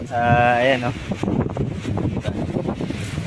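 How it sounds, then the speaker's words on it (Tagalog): Strong wind buffeting a microphone on a gravelly beach stop during a long motorcycle ride on a Honda Click, heavy rumbling gusts throughout while someone talks over it. "Medyo malakas yung hangin."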